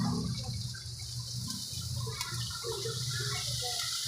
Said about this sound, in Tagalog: Medyo lagyan natin ng tubig. Lagyan mo ng sabaw.